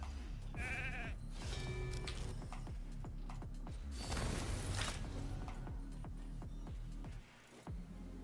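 Within a live video game arena fight, a polymorphed sheep bleats in a wavering tone near the start, amid dense clicking and mechanical game effects, with bursts of noise and a voice speaking.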